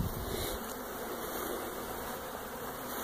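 A steady, dense buzz of honey bees hums continuously, like a swarm close around a nucleus hive, with no voices.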